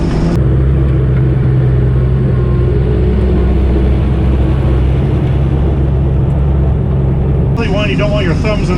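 A 1.5 ton Chevy dually truck driving off-road gives a loud, close, steady engine drone and rumble that shifts in tone near the end.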